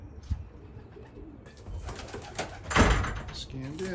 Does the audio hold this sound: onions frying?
no